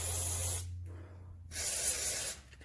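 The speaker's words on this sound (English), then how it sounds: "I'm going to get some WD-40 on these rusty bolts and then let that sit" WD-40 sprays onto rusty bolts during a coil spring conversion kit install, two steady close hissing bursts separated by a short pause, with no talk.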